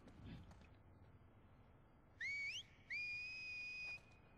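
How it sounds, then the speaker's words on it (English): Two rising whistles from The Last of Us Part II, a short upward slide followed by a longer steady tone, clear and fairly loud over a quiet game background. "Don't do the whistles."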